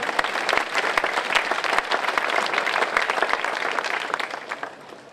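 An audience at a Czech-Slovak folklore event applauds with dense, steady clapping that carries through the whole stretch and fades slightly toward the end.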